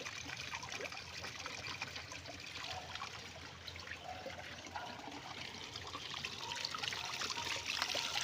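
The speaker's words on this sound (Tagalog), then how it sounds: "dito yung nagkukontrol ng tubig. Ito yung kating aerator." Water trickles steadily from an aerator at a tourist spot, a continuous close splashing flow with broad hiss that swells slightly toward the end, no voices over it.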